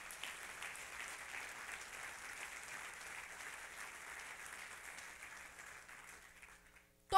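A church congregation applauds steadily during a Spanish-language service, a dense, even wash of clapping that carries on for several seconds and then fades out near the end.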